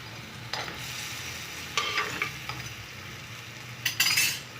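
A spoon scrapes and clinks against a pot several times over a quiet, steady simmer of crab curry with tamarind.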